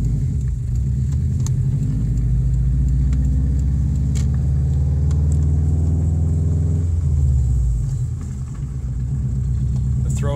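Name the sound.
cheap turbo AWD car driving in third gear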